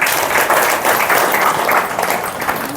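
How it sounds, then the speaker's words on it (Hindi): An audience claps steadily for Manju, a woman just praised for her exam score at a spiritual gathering, a dense continuous wash of applause filling the room at close range for the whole moment. "ताली बजाओ इनकी"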